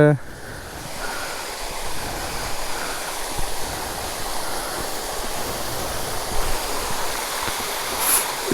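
A waterfall beside a hill road near Ooty gives a constant broad rushing roar with gusty wind noise on the microphone, steady and moderately loud throughout.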